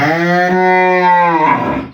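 A desi cow gives one long, loud, close moo, steady and droning before it trails off and drops away near the end, with nothing else heard.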